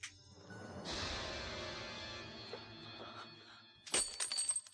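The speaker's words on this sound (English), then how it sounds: "The mirror shattering is actually a prelude to something that's going to happen with Tamara later on in the movie" In a 1989 slasher film, Friday the 13th Part VIII, a mirror shatters with a sustained crash and ringing spill of glass, followed a few seconds later by a second sharp burst of breaking, tinkling shards.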